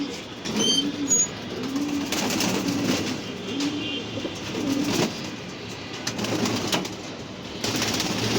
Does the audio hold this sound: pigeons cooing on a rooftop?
yes